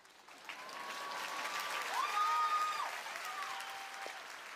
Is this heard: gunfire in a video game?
no